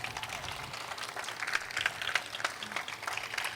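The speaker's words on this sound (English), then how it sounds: "Can we give Mayor Brandon Johnson another round of applause?" Applause from a gala audience, moderately loud scattered clapping with individual sharp claps standing out, sustained across the clip.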